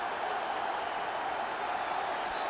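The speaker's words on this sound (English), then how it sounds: "Wolves supporters at last have something to cheer about" Wolves supporters roar from the terraces at a football match against Chelsea after a goal, a steady, dense crowd noise of cheering and clapping that holds at an even level throughout.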